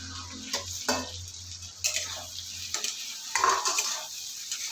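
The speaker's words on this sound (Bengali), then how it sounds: "এখানে আমি ভাজা করা আলুগুলো দিয়ে দেবো।" Fried potatoes are tipped into hot oil and spice masala and stirred, giving a soft sizzle broken by scraping spatula strokes and metal clinks against the pan, close and without talk.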